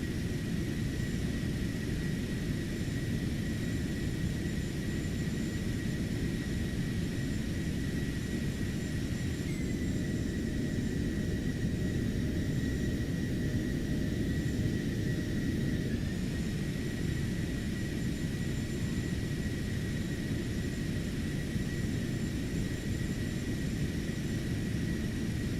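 A propeller plane flying in the flight simulator X-Plane 12 gives a steady, continuous engine drone with a broad rushing hiss. It holds at an even level throughout, with no speech.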